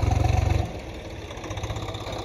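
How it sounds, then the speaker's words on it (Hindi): A tractor engine working a field with a rotavator throbs loudly and close for about half a second, then drops to a lower, steadier running note that swells slightly again near the end, with no talking. "रेस दे ये ट्रैक्टर की"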